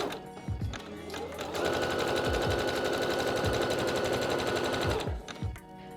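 A sewing machine running a zigzag stitch down elastic laid on lace, steady fast whirring that starts with a short back stitch, rises into continuous stitching, then slows and stops.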